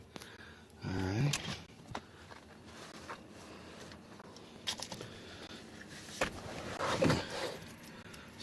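A bunch of keys jangles while someone locks up a barn. Two or three short metallic rattles come close to the mic, with handling noise and faint background sound between them.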